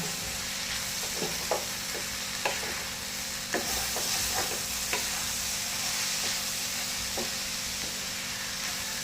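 Sweet corn bhurji sizzles in a frying pan while a utensil scrapes and clacks against it in irregular strokes, with no talking.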